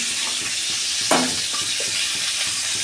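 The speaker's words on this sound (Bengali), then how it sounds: "ফুলকপিটা তৎক্ষণ ভাজা হোক" Cauliflower and potato pieces fry in hot oil with a steady, close hiss, and a single sharper clatter of stirring sounds partway through.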